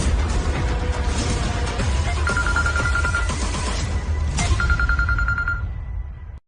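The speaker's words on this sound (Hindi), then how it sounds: "फोन बजता ही रहेगा क्या?" Two bursts of a telephone ringing with a trilling electronic bell over a busy, noisy background, the second ring after a short gap.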